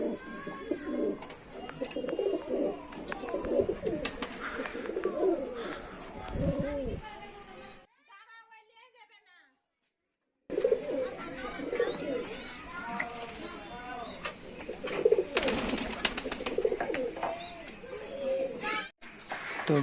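Teddy pigeons coo in a pen, soft repeated rolling calls from several birds, with someone talking over them, a brief silent gap partway through, then more cooing and talk.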